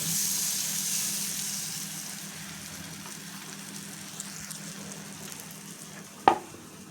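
Chapati frying in butter in a pan over a low gas flame, a soft steady sizzle that slowly fades, with one sharp clack near the end.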